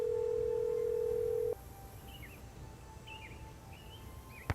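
Steady telephone dial tone from the Nancy Drew game The Secret of Shadow Ranch hums alone for about a second and a half, then cuts off with a click, leaving faint chirpy game ambience.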